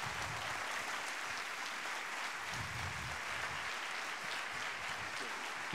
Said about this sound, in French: On vous laisse profiter des applaudissements.